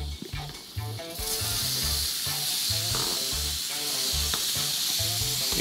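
Fajitas fry in a pan with a little oil and margarine, a steady close sizzle and hiss that swells after the first second and holds loud, with soft clinks and stirring scrapes underneath.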